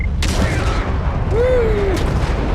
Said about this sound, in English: one more shot should do it. Maybe 2 more shots. And missiles.